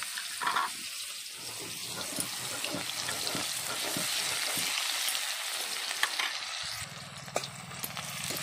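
Cumin and onion frying in a pan for a mustard-paste curry, a continuous close sizzle and crackle with faint stirring and clinks, softening near the end as a low hum comes in.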